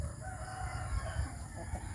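A rooster crows amid clucking chickens, a quiet farmyard scene with steady background hum.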